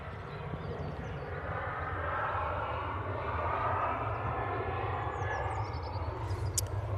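A Ryanair jet departs Manchester Airport, its engines giving a distant, steady low rumble and broad roar that builds slightly and holds, fairly faint with outdoor background and no speech.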